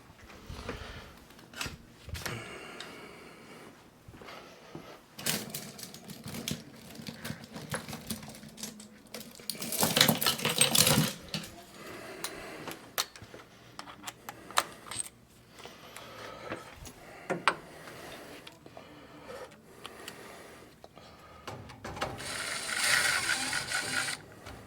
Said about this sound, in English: Put some screws in it.